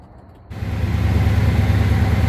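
A Ford F-150 pickup engine cranks and catches after a quiet half second, then settles into a loud, steady idle, close to the truck, following its first oil change.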